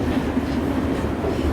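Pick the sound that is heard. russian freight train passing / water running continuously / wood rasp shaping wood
russian freight train passing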